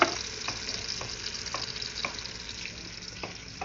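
Onion and garlic sauté in a hot pan, a steady loud sizzle broken by regular stirring scrapes about every half second.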